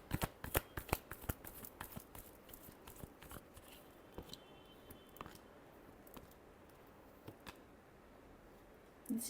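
Tarot cards are shuffled by hand, a close run of quick papery riffles and taps, busiest at first and then thinning into sparse flicks.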